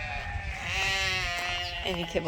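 Sheep bleating on a fiber farm, a drawn-out, wavering call up close, followed by a second shorter bleat, with a person talking over the animal.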